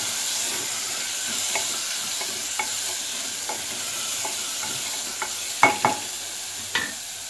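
Onion, tomato, ginger-garlic paste and masala sautéing in oil in a pan, cooked until the oil separates, a continuous soft sizzle broken by occasional spoon scrapes and stirring clicks, close and fairly quiet, with no talk.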